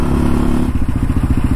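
Motorcycle passing close on an interstate, a loud droning engine with a steady low pulsing throb that grows choppier as it goes by.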